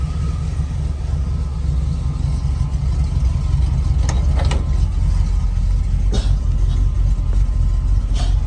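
A vehicle engine idles loudly and steadily as the brakes are released on a road trip across Michigan's Upper Peninsula, a deep constant rumble with a few brief clicks and hisses partway through.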